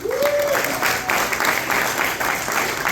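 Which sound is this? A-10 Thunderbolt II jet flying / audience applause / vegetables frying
audience applause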